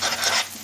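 Spices with Kashmiri chilli being fried in a pan give a brief, close, rasping scrape and hiss, as though stirred against the metal.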